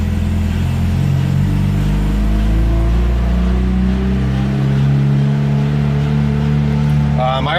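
A turbocharged Honda Civic D16 fitted with a CX Racing eBay turbo kit revs hard on a dyno while running lean, its loud steady engine drone climbing gradually in pitch.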